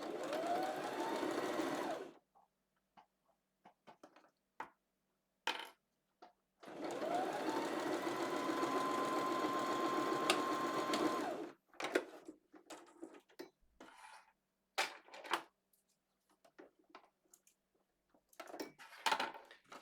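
A sewing machine running two long stitching bursts along the side seams of an off-shoulder tie-top, a steady close mechanical whir, separated by quiet pauses and scattered clicks and fabric handling.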